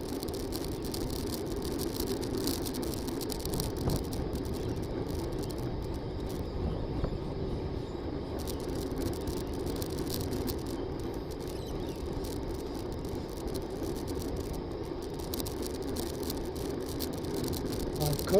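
Road and bicycle noise while riding, a constant broadband rumble and rattle of tyres and frame that holds steady and fairly loud the whole way through, with no voices.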